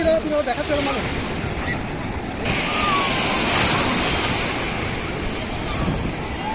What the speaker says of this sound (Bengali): ওই দেখো বড় ঢেউ আসছে, বড় ঢেউ।